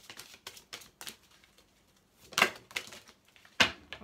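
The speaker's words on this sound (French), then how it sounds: "Pardon, j'espère que j'ai pas tapé trop fort les cartes" Tarot cards laid down on a table, a quick series of light taps and then two hard, sharp slaps, close and loud, with no one talking.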